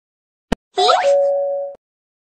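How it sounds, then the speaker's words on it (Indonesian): A cartoon doorbell rings in a children's animation: a sharp click, then a bright, bending chime that settles into one sustained tone before cutting off, alone and clear. "Tolong Miu Miu membunyikan bel pintu."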